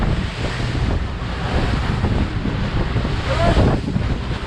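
Rough open sea churns with waves and gusting wind buffeting the microphone from a small boat, a loud, steady roar with no clear speech.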